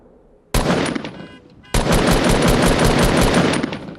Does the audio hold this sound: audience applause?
no